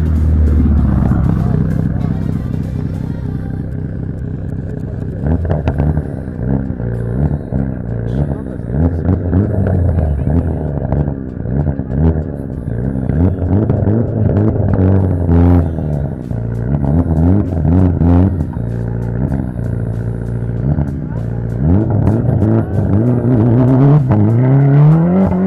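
Car engine at a drift competition (Tarzanija cup 2017) revs hard and continuously for the whole stretch, rising and falling in pitch with repeated throttle bursts, loud and close, with voices talking over it.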